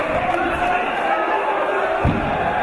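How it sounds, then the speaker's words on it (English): A wrestling body slam hits the ring canvas during a WCPW four-way match: one heavy thud late in the clip, under a constant roar of arena crowd noise. "Now we have 4 consecutive body slams"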